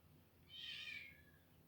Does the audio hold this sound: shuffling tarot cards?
no